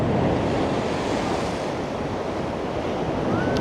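Storm-driven sea waves at Blackpool during Storm Lilian, a steady loud roar of surf mixed with heavy wind buffeting the microphone, with no break.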